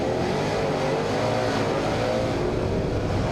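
A pack of dirt-track speedway race cars roars continuously in a dense, loud, unbroken wall of engine noise, with no voices over it.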